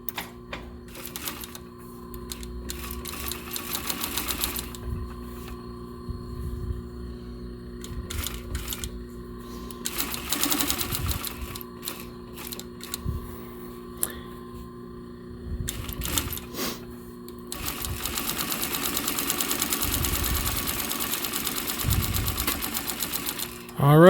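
Sewing machine stitching several ganged-up leather pouch pieces, heard as intermittent mechanical rattling runs that grow louder and more continuous toward the end, with a little talk mixed in.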